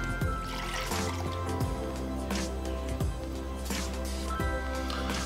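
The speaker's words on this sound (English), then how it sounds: "I'm gonna start with 3/4 of a cup of teriyaki marinade." Teriyaki marinade poured for a pork chop recipe, a close liquid pour with drips and trickles over a steady low hum, several brief splashy bursts spread across the few seconds.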